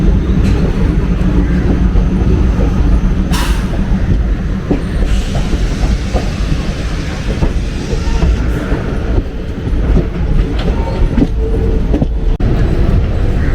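A passenger train pulling out of Garden City station in Bangalore, loud and close, with continuous rumbling, rhythmic clickety-clack of wheels over rail joints and sharp metallic clanks scattered across the whole run, no voices.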